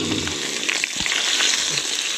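Fish fries in a wok over a campsite fire, a continuous loud sizzle and crackle with scattered pops and soft scraping throughout.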